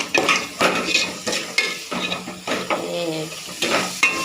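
Coriander powder and garam masala frying for Nellore-style fish curry, loud sizzling with frequent spatula scrapes and clatters against the pan, close and busy throughout.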